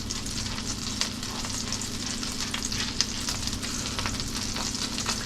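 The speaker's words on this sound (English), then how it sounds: "we've got our 2 tablespoons of butter and 2 tablespoons of olive oil in our pan, and it's sizzling" A squash fritter patty fries in a pan of butter and olive oil, giving a steady, close crackling sizzle with small pops and no talk.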